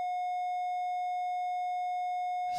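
A pure sine wave test tone holds one clean, steady pitch for about two and a half seconds, alone and unchanging, then cuts off abruptly.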